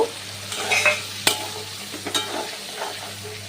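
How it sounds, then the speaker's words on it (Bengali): Chopped carrots and beans fry in a pan, a steady close sizzle broken by a series of scraping stirs and spatula knocks. "দেখো, গাজরটাও ভালো করে ভেজে নিতে হবে। বিনসটাও দিয়ে দেব।"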